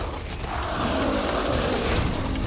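Spinning blade trap in the video game Metal Gear Survive, a dense continuous whirring, grinding mechanical clatter held at steady loudness throughout, with no voices.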